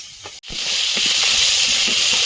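Vegetables drop into a pan of fried prawns and a loud, steady hiss of sizzling starts almost at once, after a short, brief pause, and continues evenly to the end.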